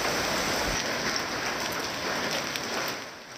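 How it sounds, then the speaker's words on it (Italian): Hail pounds down across Veneto in a severe storm, with ice pieces as big as apples, making a dense, steady, hissing clatter that fills the whole stretch and eases slightly at the end, with no voices. "il Veneto, che è stato letteralmente bombardato da grandinate con pezzi di ghiaccio grandi anche come mele"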